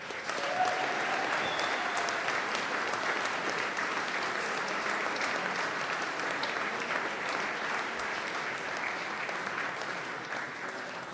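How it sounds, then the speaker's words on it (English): Sustained audience applause fills a graduation conferring ceremony hall, steady and dense from start to finish, then tapering slightly near the end. "I think that deserves a round of applause."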